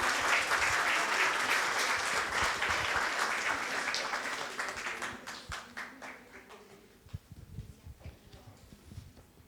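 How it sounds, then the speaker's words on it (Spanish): An audience at a panel discussion applauds, the clapping dense and lively at first, then thinning out and fading to a few scattered claps. "Un aplauso, por favor."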